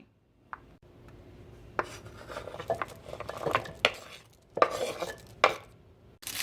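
Potatoes being halved with a knife on a cutting board for a beef stew, a string of sharp chopping clunks and scraping rubs, irregular and close, with no talk.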